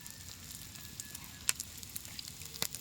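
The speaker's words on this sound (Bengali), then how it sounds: "তেলটা গরম হয়ে গেছে, বাঁধাকপিটা দিয়ে দেব।" Cabbage sizzling in hot oil over a low flame, a steady faint crackle with occasional sharper pops, no voices.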